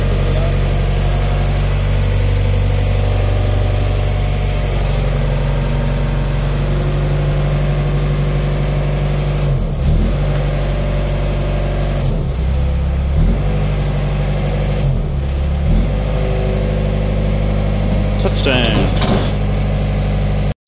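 A truck's engine idles steadily while a 40-foot shipping container full of motorcycles comes down off it, a loud continuous hum broken by several sharp hydraulic whines and mechanical clunks.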